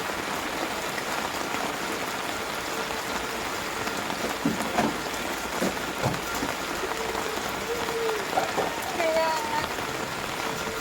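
Sudden rain falls steadily around an outdoor wood-fired cooking spot, a dense even patter that fills the whole stretch, with a few faint voices and small knocks underneath.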